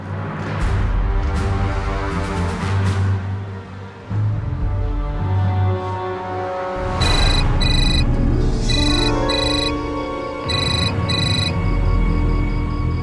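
A phone ringtone plays a repeating electronic melody, loud and close, in bursts of high chiming tones over a low background hum.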